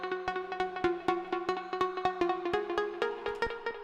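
Serum synth lead layered with a square wave whose sync is swept by an LFO, giving a rhythmic, punchy stream of bright notes with sharp regular attacks, loud and alone, with no voices.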